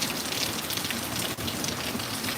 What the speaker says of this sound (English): The rain hitting this bucket.